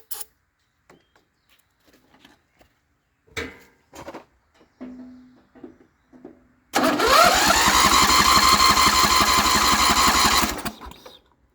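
Lawn mower engine cranking in a few scattered attempts, then catching and running loudly and steadily for several seconds before cutting out, close by with no talk.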